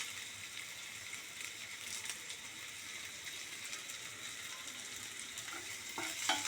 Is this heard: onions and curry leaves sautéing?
yes